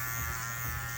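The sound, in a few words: Andis Cordless Master hair clipper cutting hair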